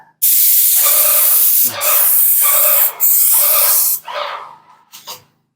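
Paint spray gun hisses in long, loud bursts while coating a 1973 Holiday Rambler RV, with four sustained blasts separated by brief pauses and a couple of shorter puffs at the end.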